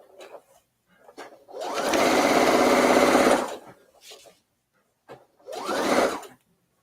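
A sewing machine stitches pants made from a men's shirt in one steady burst of about a second and a half, then a shorter run near the end, with soft handling sounds and quiet gaps between.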